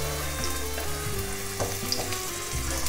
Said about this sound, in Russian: На разогретую сковородку наливаю 50 мл растительного масла и высыпаю нарезанный лучок